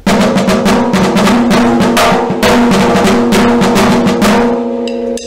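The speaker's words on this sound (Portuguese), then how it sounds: "Este é o som da caixa." Snare drum (caixa) from a school marching band, 14-inch, played alone in fast, dense rolls and rapid strokes, loud and close, with a brief pause midway and a ringing tail at the end.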